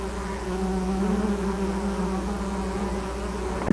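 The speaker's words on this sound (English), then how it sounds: "the honeybee, which was introduced to America from Europe" Honeybees buzz steadily around blooming wildflowers, a close continuous droning hum that wavers slightly in pitch, with no voices.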